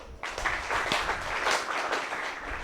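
An audience breaks into sustained applause for commandos, many hands clapping steadily at moderate loudness throughout with no talking over it.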